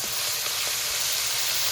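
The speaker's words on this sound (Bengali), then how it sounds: "মাছটা একটু ভাজা হয়ে গেছে, এবার উল্টিয়ে নেব।" Rui fish fry in a pan with a steady, dense sizzle of hot oil, loud and close, with a few faint soft knocks from turning the pieces; no talking.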